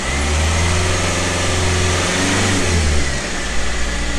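Land Rover Freelander TD4 with a BMW M47 diesel engine, turbo actuator fault, revving loudly and steadily to about 2,000 RPM, a continuous close engine drone with its pitch shifting slightly as the revs settle.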